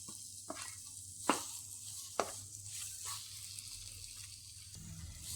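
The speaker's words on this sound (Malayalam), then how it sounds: "ഈ എണ്ണയിലിട്ട് ഒന്നുകൂടി ഒന്ന് വഴറ്റി കൊടുക്കാം." Ground onion paste sautéing in hot oil for Kerala-style chicken, a soft continuous sizzle with a few sharp stirring clacks against the pan, steady and close with no talk.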